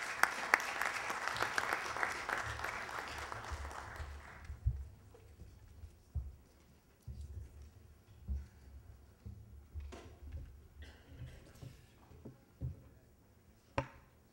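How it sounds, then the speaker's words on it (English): Audience applause for a panel at the close of a long day of sessions, broad clapping for the first few seconds then thinning to scattered claps and knocks. "Can we have a round of applause for the panelists?"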